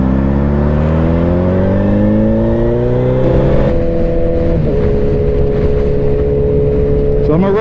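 A Suzuki Hayabusa motorcycle runs in 4th gear. Its loud, close engine drone climbs in pitch, eases briefly midway, then holds a steady rising whine under rushing wind.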